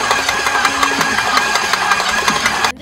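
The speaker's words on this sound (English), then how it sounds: "you hear that clanking? I'm not sure what's causing that clanking." Stand mixer kneading cinnamon roll dough with a dough hook, giving a loud, steady mechanical drone with rapid repeated clanks and knocks that stops abruptly near the end.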